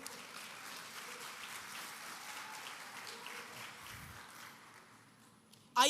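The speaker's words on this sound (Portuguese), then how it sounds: "Aplauda o nome de Jesus, por favor." A church congregation applauds in a steady, moderately distant wash of clapping that gradually fades out, followed by a sharp sound at the very end.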